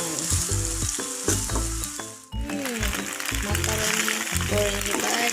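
Macaroni fries and sizzles loudly in a pan while being stirred, with steady crackling, scraping and clattering of the utensil against the pan, and some background tonal sounds under it.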